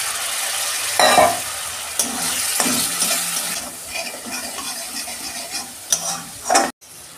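Spice paste with coriander powder, Kashmiri chilli powder and a splash of water being sautéed in a pan for a bottle gourd and prawn dish, loud close sizzling with several hard spatula scrapes and knocks, no talk.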